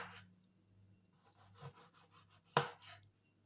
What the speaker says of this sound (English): There I'm cutting my sausages, guys